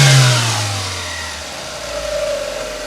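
Engine of a Mazda 323F with an idle problem: a close, loud rev that falls away and settles into a steady running hum.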